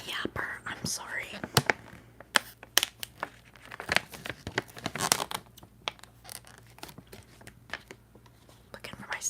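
Snack packaging being opened during a whispered ASMR livestream: close, sharp crinkling and tearing bursts come in irregular clusters under soft whispering.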